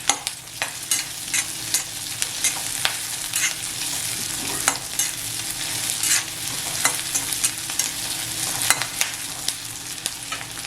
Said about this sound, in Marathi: मिडियम गॅसवर हा कांदा भाजून घ्यायचा